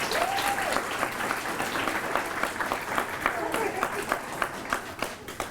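Graduation crowd applauding at a school ceremony, sustained clapping from many hands that carries on with a faint voice and whistle-like tone briefly audible over it.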